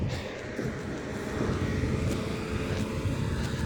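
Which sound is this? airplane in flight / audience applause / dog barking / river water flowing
airplane in flight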